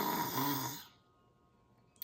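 A child imitates the roar of an adult desert lion with a single breathy, growling voice lasting under a second, loud at first and then trailing off into near silence.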